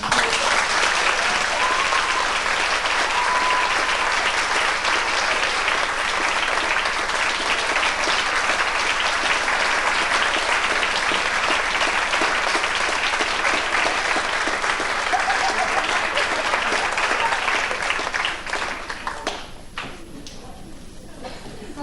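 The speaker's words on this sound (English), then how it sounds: "A special clap now for Margaret and Marilyn." Parents at a 1989 Metford Public School evening show give a long, dense round of applause for Margaret and Marilyn. The clapping is loud and steady for nearly twenty seconds, then fades quickly toward the end.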